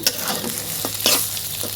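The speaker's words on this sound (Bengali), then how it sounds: "পেঁয়াজ দিয়ে 2টা ডিম ভেঙে দিচ্ছি এখানে।" Two eggs sizzle in a pan of hot oil with onion, a steady close crackle broken by a few short scraping stirs.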